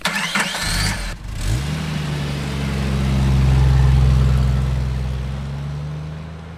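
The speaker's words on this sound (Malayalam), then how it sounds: "ബെൻലി കോണ്ടിനെന്റൽ ഫ്ലൈയിങ് സ്പർ എന്ന് പറയുന്ന മോഡൽ നമ്മളൊന്ന് ഡ്രൈവ് ചെയ്ത് നോക്കാൻ പോവുകയാണ്" A Bentley Continental Flying Spur engine cranks and catches, then settles into a deep, smooth idle that swells slightly before easing, heard close with no talking.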